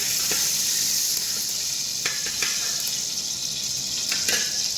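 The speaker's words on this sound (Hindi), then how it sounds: "ये हम घी डाल देंगे, कम से कम आधा पाव घी डाल देंगे" Roughly half a pao of ghee pours into a cooking pot for beef yakhni pulao, making a continuous, close hissing flow with a few faint clinks and no voices.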